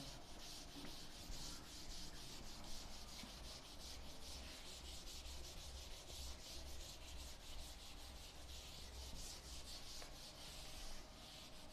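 A steady, continuous rubbing scrape runs for several seconds as writing is wiped off a classroom board, close and even throughout with no voice over it.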